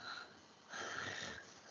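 A sleeping child, recorded on a parent's mobile phone at night, breathes with soft, raspy snoring and sniffly snorts, quiet and close, with a short pause between two breaths.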